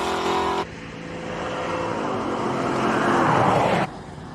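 A car climbing the hill at the Simola Hillclimb, a continuous engine drone swelling as it passes nearby and then cutting off abruptly.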